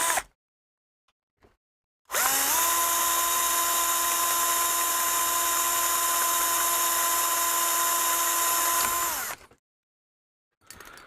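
A drill runs steadily for about seven seconds, boring holes through a part of a Bush DAC90A radio during restoration. The high whine is loud and continuous, starting abruptly and cutting off at the end, with a few faint clicks before and after.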